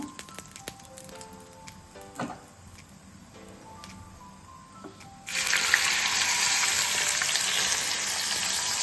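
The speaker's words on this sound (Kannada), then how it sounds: "ಇದು ಚೆನ್ನಾಗಿ ಫ್ರೈ ಆಗ್ತಾ ಇದೆ" Soya chunks fry in a pan for soya tikka masala. Quiet clinks come first, then a loud, steady sizzle breaks out and holds.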